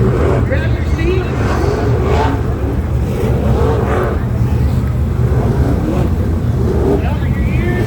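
Dirt track race cars roar at a night race, with loud, continuous engine rumble and windy buffeting filling the clip while faint voices sit beneath the noise.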